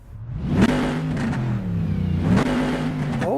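A race car engine in Assetto Corsa sim racing roars close and loud, its deep growling pitch sweeping up and down through gear changes with sharp blips between, no talking over it.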